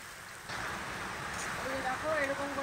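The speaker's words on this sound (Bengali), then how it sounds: "বাইরে এত বৃষ্টি হচ্ছে আর বৃষ্টির যা শব্দ।" Heavy rain pours outside during home cooking, a dense steady hiss that swells a little after the first half second, while a person speaks over it near the end.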